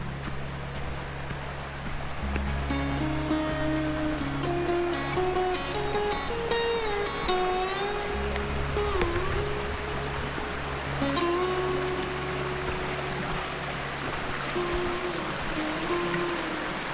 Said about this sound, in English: I love the sound of little cascading water going over rocks.